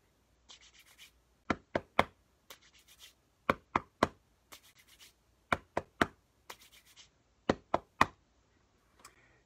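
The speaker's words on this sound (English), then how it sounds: "The brush hands part is a little bit more of a challenge." Hands brush and slap in a repeating rhythmic pattern, soft swishing strokes alternating with sharper claps, close and clear with no talking.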